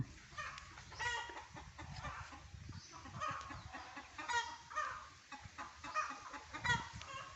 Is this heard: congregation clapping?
no